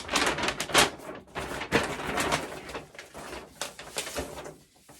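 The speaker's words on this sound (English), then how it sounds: "if I open this up, excuse rustling." Crisp, crackly paper rustling in repeated bursts as a large sewing pattern sheet is unfolded and handled close by, with brief pauses between movements.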